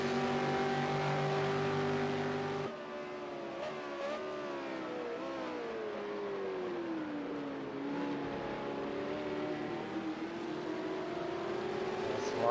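V8 Supercars race on a wet Mount Panorama circuit at Bathurst in the Project Cars racing game, a continuous loud engine drone rising and falling through gear changes as cars run close by, with faint talk at times.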